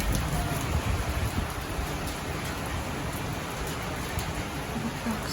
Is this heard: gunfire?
no